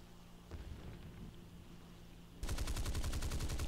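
Tempest Mk.V aircraft cannons in War Thunder open fire suddenly as a loud, rapid burst of rattling shots after a quieter stretch of engine drone.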